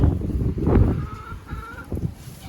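A young hen in a backyard coop clucks in short, close bursts, alone and fairly loud, with low rustling between calls.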